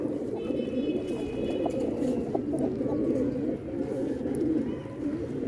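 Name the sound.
pigeons cooing, Mughal breed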